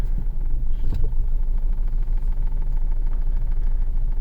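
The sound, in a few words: 2000-2011 Ford Focus engine running in drive, vibrating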